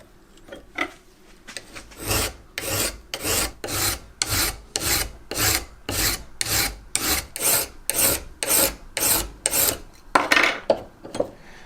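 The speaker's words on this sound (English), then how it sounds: "So I'm just going to spend a little bit more time filing that tip." A file works the tip of a knife in about twenty regular rasping strokes, close and gritty, each stroke a short scrape with brief gaps between, alone and without talk.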